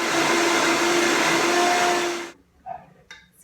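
A countertop blender runs loud and steady for about two seconds while blending tomato sauce for a raw vegan meal, then cuts off, leaving faint kitchen clatter.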